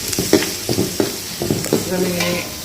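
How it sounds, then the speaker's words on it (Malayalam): Onion and curry leaves fry in a pan with a constant sizzle, broken by repeated scraping strokes of a spoon stirring them, close and fairly loud. "ഓണിയനും കറിവേപ്പില ഇതൊന്ന് നല്ല അങ്ങനെ ഒന്ന് ഫ്രൈ ചെയ്തെടുത്ത്"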